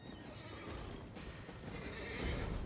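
Horse in the Elden Ring video game neighing, a faint whinny mixed with hoof clip-clop that builds slightly toward the end, heard alone without talk.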